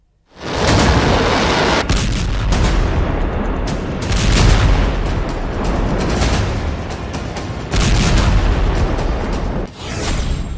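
Israeli air strikes hit Damascus, Syria, with a sustained wall of loud, roaring blasts and rumbling booms, several sharper bursts standing out over the continuous din.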